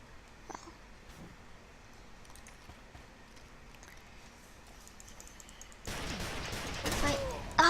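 Gunfire in the blocky first-person shooter game Ace of Spades: faint scattered pops over quiet background, then a loud, dense burst of rapid shots near the end.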